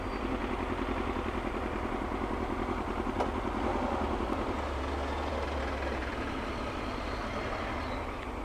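A motorcycle idles in a queue of city traffic in Hamburg, its steady engine drone blending with the broad hum of surrounding vehicles, continuous and moderately distant.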